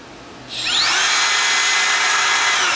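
A Makita XTR01T7 18-volt cordless trim router spins up from quiet to a steady, loud high-pitched whine and keeps running close by, with no talk over it.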